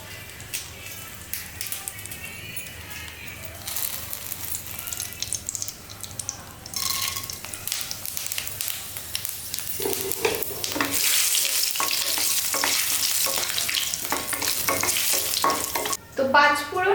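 Bay leaves, dried red chillies and panch phoron sizzle in hot oil in a kadai, with stirring and scraping that grows louder and busier toward the end.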